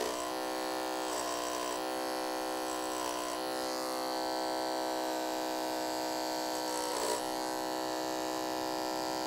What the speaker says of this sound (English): the thicker the hair, the slower you have to move the clipper so it actually cuts